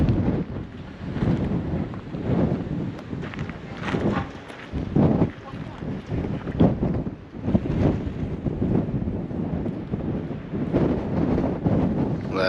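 Strong wind buffeting the microphone outdoors on the Greek island of Mykonos, a continuous roaring rumble with gusty surges, and a voice can be heard talking over it.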